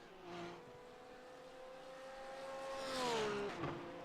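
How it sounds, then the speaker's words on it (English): Porsche race car engines in a sim racing game at Montreal whine with a sustained high tone that sweeps upward and then drops as a car shifts, fairly faint and distant, with no talk. "I do like listening to these Porsches"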